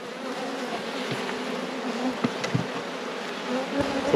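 Honey bees swarm around the frames of an open beehive, a close, dense and continuous buzzing drone with occasional louder passes near the listener.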